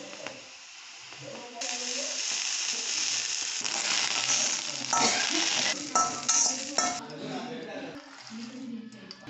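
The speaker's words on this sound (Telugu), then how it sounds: "ఇప్పుడు పచ్చిమిరపకాయలు వేసుకుందాం" Green chillies frying in hot oil in a home kitchen pan, a steady crackling sizzle, loud and close, with scraping and stirring clatter over it and low voices underneath.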